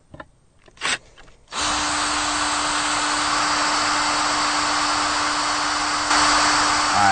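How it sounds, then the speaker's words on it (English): A power drill bores a hole through a boat deck during a Troll Tamer install, starting after a brief knock and then running as one steady, loud whine for several seconds with a slight rise near the end. "So we're going to go ahead and get this hole drilled"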